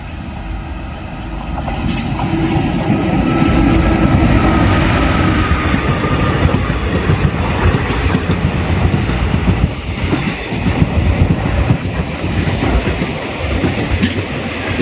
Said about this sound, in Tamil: செட்டிநாட்டில் எதிர்க்க சிலம்பு எக்ஸ்பிரஸ் வருது